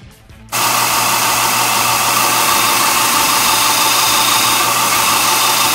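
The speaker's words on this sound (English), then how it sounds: "I'm going to go over my drill press and I'm going to drill 3 holes in it." A drill press abruptly starts and keeps a loud, steady whirring drone at close range while drilling holes in knife scales, broad and unchanging, with no voices.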